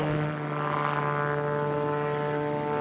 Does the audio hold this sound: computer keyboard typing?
no